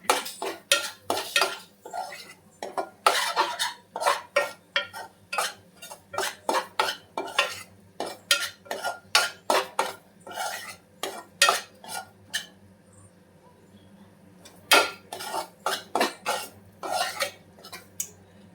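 A spoon stirs drumstick curry with salt in a metal pot, giving rapid bursts of clanking and scraping with brief pauses between them. The sound is close and fairly quiet, with no talking.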